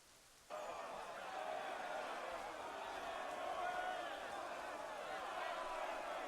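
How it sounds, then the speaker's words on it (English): Steady hiss of falling rain in the video game Assassin's Creed III Remastered starts abruptly and continues evenly, a dense wash of patter with no voices standing out. "Standing in the rain."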